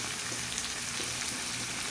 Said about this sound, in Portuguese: Escuta só o chiado aí.